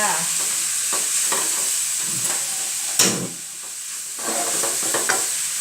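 Mixed vegetables with minced pork and shrimp, seasoned with salt and soy sauce, hiss over high heat as a spatula stirs them in irregular scrapes, with one sharp clank of metal against the pan midway.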